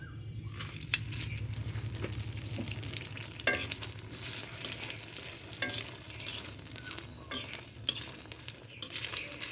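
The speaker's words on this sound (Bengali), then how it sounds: "দেখেন 7টা মরিচ আমি ভেজে নেব।" Seven chillies fry in hot oil for a fish curry with potatoes, a dense continuous sizzle close up with occasional stirring scrapes and clinks of the pan.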